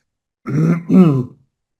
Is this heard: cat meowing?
no